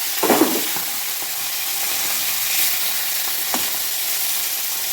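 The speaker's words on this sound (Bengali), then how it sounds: "শুটকিগুলি একটু নুন হলুদ মাখিয়ে নিলাম, একটু ভেজে নেব শুটকিগুলি" Dried Chandana fish (shutki) coated in salt and turmeric frying in hot oil, a steady close sizzle with a brief crackling burst at the start and occasional pops.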